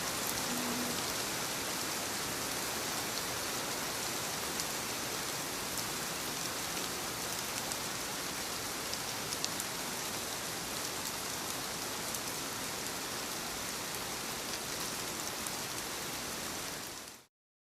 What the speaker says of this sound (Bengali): আজকে সকাল থেকেই বৃষ্টি